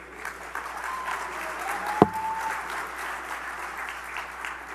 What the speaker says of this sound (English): Let's give Dragana another round of applause.